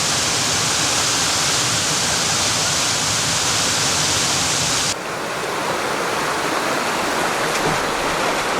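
Mountain river in Fuxing District, Taiwan, rushing loudly and steadily over rocks in a continuous broadband roar; the sound shifts slightly partway through as the position changes along a bend.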